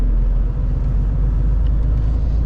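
A truck rolls along a road near Kryvyi Rih, a loud continuous low rumble of engine and tyres from inside the cab with no speech, steady throughout.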